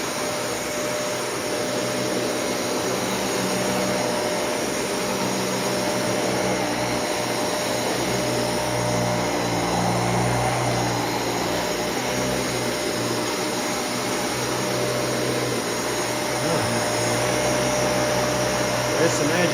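A Dyson Cinetic Big Ball vacuum cleaner runs steadily and loudly for the whole stretch, sucking up fine particles with a constant whining roar and slight shifts in tone as it works the floor.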